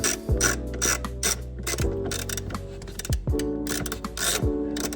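A hand ratchet tightens shifter bushing bolts on a 9th-gen car during an Acuity shifter upgrade, giving close, loud bursts of rapid clicking broken by short pauses and a few sharp metallic knocks.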